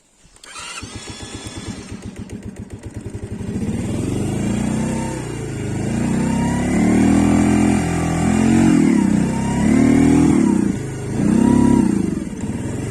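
A 2022 Mondial SFC 50 Eco moped engine starts with rapid popping, then idles and revs in repeated rising surges, loud and close, with a speed limiter on the carburetor choking it at full throttle.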